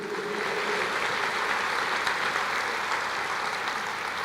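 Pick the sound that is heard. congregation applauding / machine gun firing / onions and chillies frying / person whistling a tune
congregation applauding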